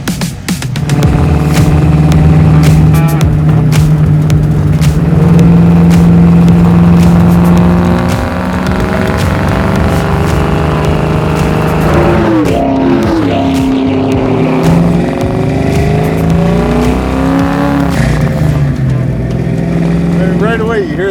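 A garage-built stroker 1971 Ford Mustang Fastback engine rumbles loudly and steadily while driving, with rising and falling revs as it accelerates and shifts, close and continuous throughout.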